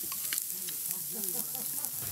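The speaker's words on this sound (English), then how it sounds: "I got some vegan burgers I'm going to throw on there." Vegan burgers sizzle and crackle on a hot grill, with a faint voice murmuring underneath.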